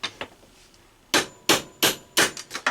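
A hammer tapping out old body mount bolts on a Jeep Wrangler frame, six or seven sharp metallic strikes, two early and then a spaced run of heavier blows, close and loud with no talking.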